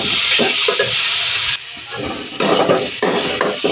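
Saag greens poured into hot oil with browned onion and garlic, giving a loud broad hissing sizzle that fades midway and then returns in bursts with scraping clatter.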